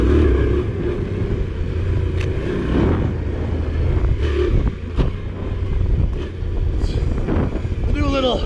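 A Yamaha Tenere 700 motorcycle rides a trail with a steady engine drone under heavy wind buffeting on the microphone, loud and continuous throughout, with a few brief knocks and a short rising whine near the end.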